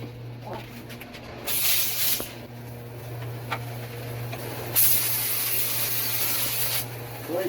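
A paint spray gun applies primer to a 2001 Chevrolet Silverado 2500 HD, giving two long bursts of close, steady hiss with a short gap between them, over a constant low hum.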